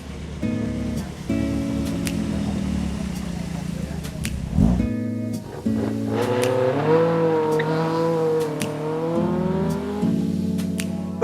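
A fast racing car climbs the Shelsley Walsh hill climb course, its engine rising through the gears with sharp revving and brief pauses between shifts, loud and close before pulling away.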